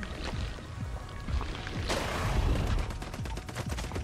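Rapid gunfire in a co-op action survival video game, a dense continuous barrage of shots with a louder burst midway, heard alone without talk.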